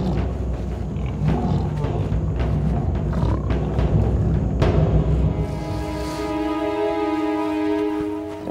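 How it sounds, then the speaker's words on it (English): Lions locked in savage combat with a buffalo, a continuous loud, rumbling roar and growl with rising snarls, dense and close, ending in a long drawn-out moaning call. "Cats put all their strength into this savage combat."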